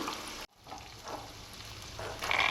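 Peas frying in oil in a pan, along with onion and turmeric, while a mixed-vegetable gojju is being cooked. A steady, fairly soft sizzle with light crackle runs throughout, broken by one brief pause and swelling slightly near the end.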